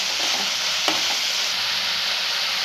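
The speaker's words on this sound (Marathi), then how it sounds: "टमाटो आता फक्त आपल्याला परतून घ्यायचे जास्त फ्राय करायचं नाही" Tomatoes and capsicum sautéed in a pan give a loud, steady, close sizzle with one brief clink of a spoon partway through.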